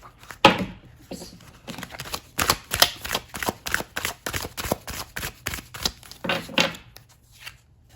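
Tarot cards are shuffled by hand, making a quick run of soft, papery slaps and riffles up close, irregular in rhythm and fading out at the end.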